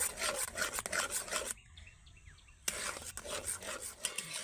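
A spoon mixes sugar syrup into an orange mixture, giving steady scraping, rubbing strokes with a short quiet pause midway before the stirring resumes, close and fairly soft.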